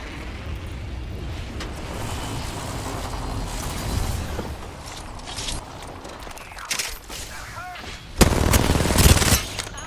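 Bursts of rapid gunfire in the battle royale game Apex Legends, loud and close, with heavier volleys near the end amid fast in-game action.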